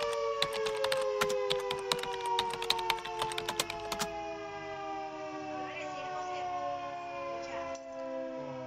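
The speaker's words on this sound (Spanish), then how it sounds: "Ya suena la sirena avisando el toque de queda." A curfew warning siren wails in long, drawn-out tones that slowly fall in pitch. Rapid clicking taps sound over the siren at first and then stop.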